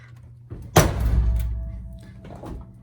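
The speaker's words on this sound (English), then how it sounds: "I'll slam this door." A single solid door of a wrecked Pontiac Sunfire slams shut nearby with a heavy thunk, followed by a short ringing decay and faint rattle.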